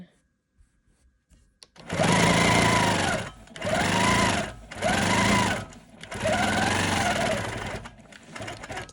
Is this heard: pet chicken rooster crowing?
no